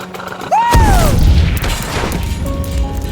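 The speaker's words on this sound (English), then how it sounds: "the explosion knocked me senseless" A hydrogen explosion in a movie set on Mars hits as one loud, deep boom after a rising whoosh, then rumbles and fades with lingering debris noise.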